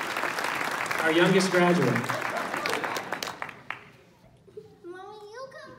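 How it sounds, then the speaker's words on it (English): Audience at a coding bootcamp graduation applauding a graduate, a burst of clapping that fades away after a few seconds, mixed with voices speaking over it and a voice afterward. "give a round of applause for the young lady."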